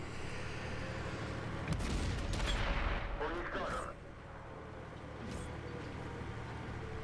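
Tank gunfire in World of Tanks lands as a heavy boom with a rumbling tail, loud and close, followed by quieter battle ambience while someone talks.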